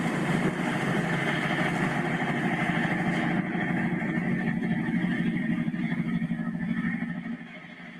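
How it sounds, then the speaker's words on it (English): A continuous low engine drone with a grinding, rushing churn like a ship's hull pushing through ice, steady and fairly close, easing off at the end. "You see how the ship is breaking through the ice?"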